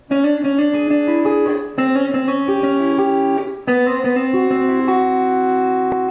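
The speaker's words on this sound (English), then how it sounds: "I'm using my ring finger and my middle finger along with the pick" A slower rolling guitar banjo-roll pattern, hybrid picked with pick plus middle and ring fingers, picked notes ringing and overlapping in three short phrases separated by brief breaks, with no voices.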